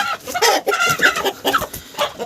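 Several chickens cluck and squawk close by, a busy overlapping chatter of hens with no other sounds.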